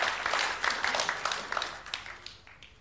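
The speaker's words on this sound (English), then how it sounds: "I'll clap for her too." An audience at an ICMI'17 activism talk claps in scattered, uneven bursts that gradually thin out and fade, moderately loud and close throughout.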